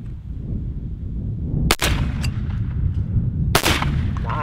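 Two sharp, loud 12 gauge shotgun blasts about two seconds apart, fired at clay targets out on Lake Okeechobee over a steady low rumble, likely wind or an engine.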